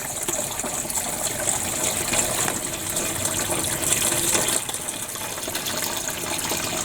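Water pours steadily into the reservoir of a newly assembled self-watering planter, a continuous close gushing hiss with no talking, trailing off slightly toward the end.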